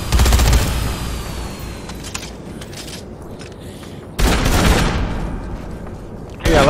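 Gunfire from the zombie video game Dead Rising 3: a dense, loud burst of rapid shots opens, then a quieter rumbling stretch, followed by another heavy volley and a final burst at the end.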